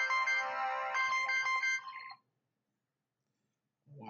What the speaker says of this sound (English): Why have a 9 o'clock alarm?